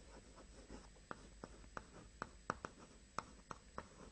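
A pen writes on paper during a live maths class on coordinate geometry, giving a string of sharp, faint taps and strokes spaced irregularly in a quiet room.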